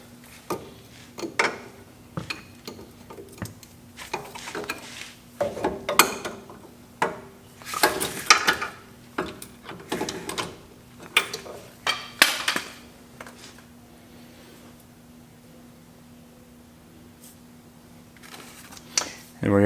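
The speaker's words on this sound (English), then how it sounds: "So we need a 17 millimeter socket and wrench. We're going to go ahead and run them up tight." A 17 mm socket and wrench tightening strut bolts on a truck during a Rough Country leveling kit install gives a run of metallic ratcheting and clanking bursts with pauses, close and fairly loud.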